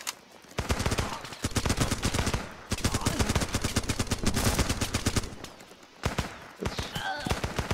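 Rapid gunfire from the combat game Running with Rifles sounds in dense, loud bursts of sharp reports, broken by short pauses, with a busy battlefield din behind it.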